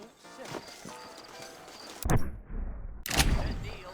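Horse hooves clip-clopping in the Western video game Red Dead Redemption, a soft irregular patter joined by two sharp louder thumps near the end, with faint background game ambience.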